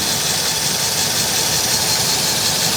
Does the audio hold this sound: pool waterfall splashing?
no